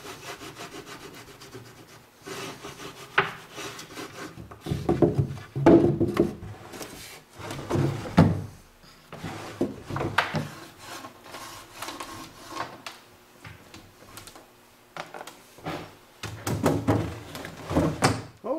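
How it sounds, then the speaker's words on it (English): Wax is rubbed by hand onto the wooden contact points of a vintage chest of drawers, heard as close, irregular bursts of dry scraping and rubbing with short pauses between strokes. "just rubbing wax on both those contact points will assist the drawer in sliding in and out a little bit more freely"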